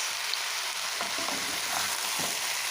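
Vegetable chow mein stir-fried with soy sauce, green chili sauce and Maggi masala sizzles steadily, with a few clattering scrapes of a spatula tossing the noodles in the pan.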